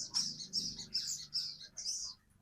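A Sogon bird sings in reply to being teased on a cold, overcast day, giving a quick run of high, bright chirping phrases close to the microphone, a few short bursts with no one speaking.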